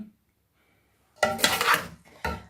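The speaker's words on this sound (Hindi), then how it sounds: "चलें जी, अब हम इसे डिश आउट करते हैं।" Karahi chicken being served from the pan, with a metal spoon scraping and clattering against the pan in two short bursts after a quiet pause.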